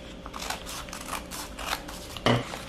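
Scissors slicing through folded dress fabric to cut a long ruffled dress piece to length, a series of soft close snips with one sharper, louder cut near the end.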